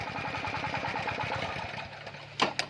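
A small Thai farm tractor, an i-taen with a carburettor not yet cleaned, chugs with a rapid, even single-cylinder putter, close by. After about two seconds it stalls and dies, followed by a couple of sharp clanks.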